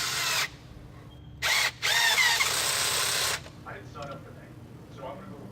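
A power tool runs in short, loud, steady bursts close by while a bolt securing a line is driven down in the engine bay of a Subaru GC Impreza with a stock EJ18 engine, followed by quieter handling clatter.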